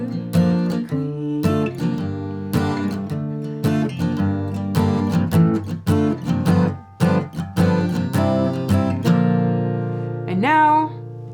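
An acoustic guitar strums the chorus chords of a song in a rhythmic pattern of clear, ringing chords, ending with a sliding flourish, played alone without talk.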